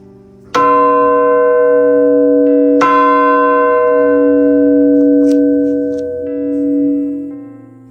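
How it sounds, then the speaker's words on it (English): An old church bell rings out twice, each strike loud and close with a long, shimmering resonance that hangs and slowly fades between and after the hits. "The rope is no longer here, but the bell still rings."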